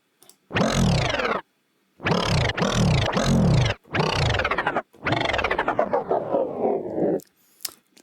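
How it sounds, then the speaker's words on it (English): An Omnisphere skin job sweep drop plays as a series of loud, dramatic swooping bursts that fall in pitch, separated by brief gaps, with a short tail at the end and no talk. "this skin job sweep actually sounds like this"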